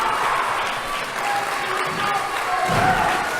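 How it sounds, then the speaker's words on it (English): A crowd at an independent wrestling show claps and cheers steadily throughout, a dense wash of applause with a swell and a thump near the end. "And the crowd coming alive for Sacrifice Pro."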